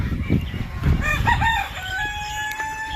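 A rooster crows loudly and nearby on a poultry farm while hens cluck around it, the call rising and holding before trailing off.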